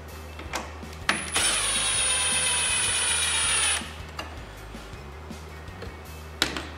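A power driver with a T30 Torx bit turns the factory belt tensioner adjustment screw on a Ski-Doo G4 850 snowmobile in a shop, giving one steady high whirring burst of about two and a half seconds between quiet pauses.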